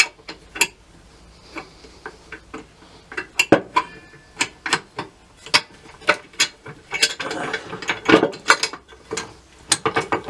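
Metal shift forks are fitted into an MTX75 manual transmission, making a close, irregular run of sharp metallic clicks, clanks and knocks as the parts are seated and shifted, with no voices.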